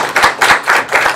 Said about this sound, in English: So I just want to give a round of applause to you.